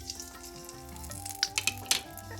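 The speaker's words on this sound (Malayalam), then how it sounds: "എണ്ണ ചൂടായി. ഇതിലേക്ക് 1 ടീസ്പൂൺ കടുക്," Mustard seeds spluttering in hot gingelly oil in a pan, with a steady sizzle and a run of sharp pops near the end, close and fairly loud, for a Kerala-style red lemon pickle.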